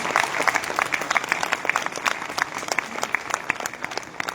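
An audience at a public event breaks into applause: many hands clapping in a dense, crisp patter that swells and dips slightly over several seconds, heard alone without speech.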